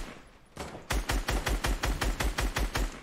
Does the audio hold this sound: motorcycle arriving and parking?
no